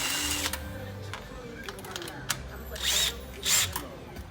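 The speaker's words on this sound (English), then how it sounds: "the fast way with a 10mm drive" A power driver with a 10mm socket runs bolts down tight on relocation hardware, several short whirring bursts close by. A voice talks over parts of it.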